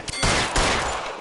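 Gunfire bursts from a shootout in the L.A. Noire video game, a quick double crack followed by two heavy, sustained volleys of rapid shots, loud and close.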